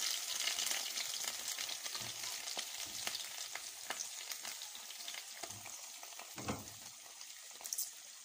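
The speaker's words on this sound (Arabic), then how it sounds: "هسيبها بقى كده تتشوح شوية مع بعضها" Meat sautés in a pot with a soft, steady sizzle and light crackle, interrupted now and then by quiet scraping stirs; fairly faint and close, with no voices.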